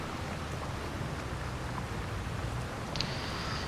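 Steady rain in a farming video game, a continuous even hiss of falling water that holds at a constant level throughout, with a brief faint tone near the end.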